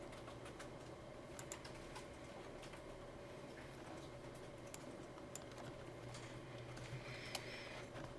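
Soft keystrokes tap on a computer keyboard during a lecture, faint irregular clicks over a steady room hum, with no speech.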